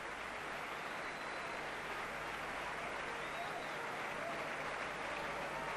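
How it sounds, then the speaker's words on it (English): A stadium crowd at a rugby league legends match between Great Britain and Australia applauds a substitution, sustained distant clapping filling the whole stretch at an even level. "Andy Gregory comes off to tremendous applause."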